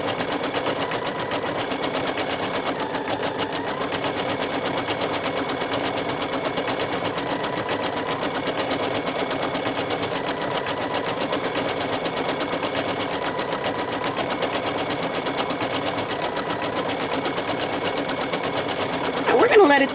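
An embroidery machine stitches out felt flower pins, giving a steady, fast mechanical needle rattle that runs evenly throughout, close and continuous, with no talk over it.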